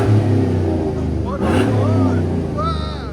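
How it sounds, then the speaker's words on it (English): Car engine revving through a prototype Exhaust Addicts muffler, a short loud burst of throaty exhaust rising and falling, with voices chattering over it. "What do you guys think of the sound? That's our prototype muffler."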